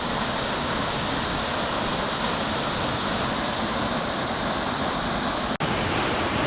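Waterfall on Koh Chang, pouring in a dense, constant roar of falling water, loud and close, unbroken except for one sharp click near the end.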